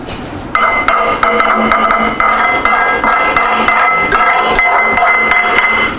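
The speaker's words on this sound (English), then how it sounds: "you just give it a little swipe with the hammer and all the slag just falls right off" Repeated metallic taps and chips of a hammer knocking slag off a 7018 stick weld on thick metal, quick irregular clinks close by, ringing slightly over a steady background hum.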